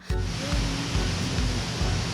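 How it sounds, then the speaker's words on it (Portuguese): Tijuípe waterfall at Itacaré, Bahia, gives a constant, loud, broadband roar of falling water, with soft low thuds recurring about every half second beneath it. "Entrada da Cachoeira Tijuípe."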